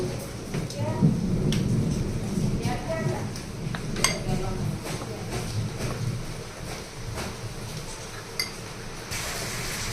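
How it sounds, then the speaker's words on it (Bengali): Heavy rain pours steadily outside during a thunderstorm, with low rumbling thunder rolling beneath the constant hiss and a few sharper cracks. Faint kitchen clinks can be heard nearby. "বাইরে প্রচণ্ড বৃষ্টি হচ্ছে আওয়াজ নিশ্চয়ই পাচ্ছ"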